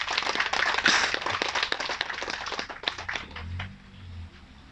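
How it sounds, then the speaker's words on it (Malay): Dense, continuous applause from a crowd at a political gathering, loud and close at first, then thinning out and fading over a few seconds. "Berikan tepukan."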